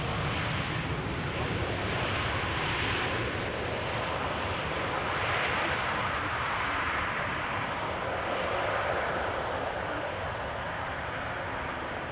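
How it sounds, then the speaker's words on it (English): A KLM Boeing 737-800 airliner arriving at Amsterdam Schiphol Airport, a steady broad jet roar at moderate distance holding constant throughout, heard outdoors. "It is KLM flight 1614, 737-800 arriving from Milan."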